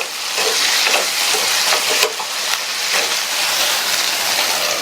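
Raw plantain pieces are stirred with salt in a hot frying pan, producing a loud, close, continuous sizzle with scraping and a couple of sharp utensil knocks partway through.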